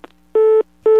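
Telephone tone after a call is hung up: two clean, loud beeps of equal pitch, each about a quarter second, evenly spaced, alone with no voices.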